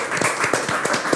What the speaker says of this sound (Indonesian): Tepuk tangan buat Kang Mas Kuku